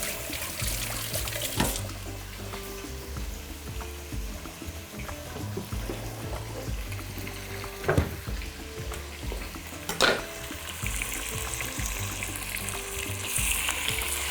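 Pieces of meat sizzle steadily in a hot pan while browning for a creamy soup, with occasional sharp clinks and clatters of a utensil against the pan rising above the constant frying hiss.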